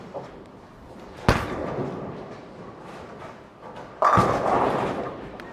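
Bowling ball on an indoor lane, two heavy thuds a few seconds apart with a rolling rumble after each, heard in an echoing alley.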